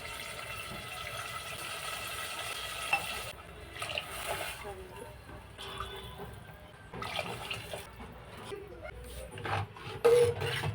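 Water saved from boiling chicken is poured into a spicy chicken curry in the pan, giving a steady splashing, bubbling pour over several seconds, with a person talking over it.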